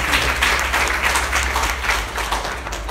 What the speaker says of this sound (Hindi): एक तालियां इसके लिए